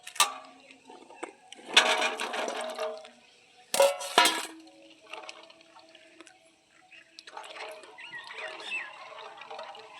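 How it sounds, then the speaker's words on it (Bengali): Jujube fruits being washed in water outdoors on a rooftop: bursts of splashing and sloshing with clinks of a vessel, pausing between rinses, close by. "কুলগুলো এখন জলে ভালো করে ধুয়ে নেব।"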